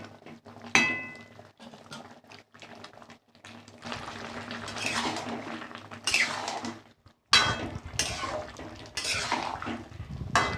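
Metal pots, pans and utensils clink and clatter in irregular bursts while vegetables cook, with a soft bubbling undertone between the knocks.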